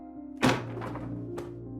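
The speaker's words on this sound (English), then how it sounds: "With a thud, your book fell to the floor." A book hits the floor with a single dull thud, followed by a fainter second knock, close and otherwise quiet.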